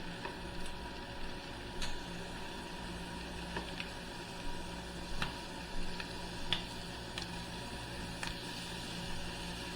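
Shrimp sizzling in a frying pan after being flipped, with a steady soft frying hiss broken by light pops and ticks, close and without talk.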